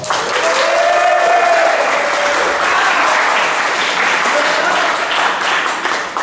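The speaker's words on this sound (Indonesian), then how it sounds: "Boleh sebuahnya lo tepuk tangan untuk dia." A church congregation at a youth opening service in Palembang breaks into loud, sustained clapping that swells early and stays strong. A faint tonal voice or instrument line drifts beneath it.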